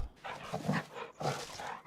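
A dog in the farming video game Farming Simulator 25 makes short whimpering, yipping vocalisations in a quick run of bursts, fairly close and moderately loud, with no speech over it.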